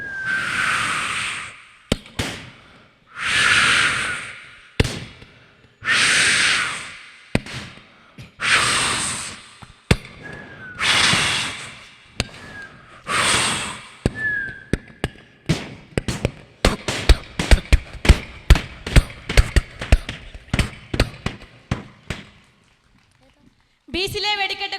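Students vocally imitate Thrissur Pooram fireworks, starting with several long whooshing bursts with whistle-like tones, then building into a rapid string of sharp crackling pops that ends in a brief final flurry.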